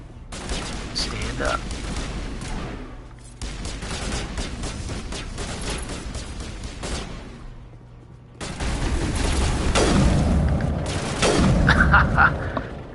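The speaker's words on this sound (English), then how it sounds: "Nothing like a sniper rifle at close range." Close-range sniper rifle shots in the video game Mass Effect, loud cracking reports scattered through continuous game noise and a talking player, with a brief pause partway through.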